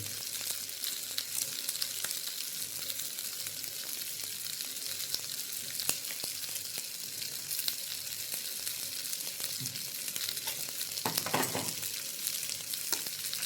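Green chillies split lengthwise and curry leaves frying in masala for a Kerala-style fish fry, a steady close sizzle and crackle throughout with occasional stirring scrapes, no talk.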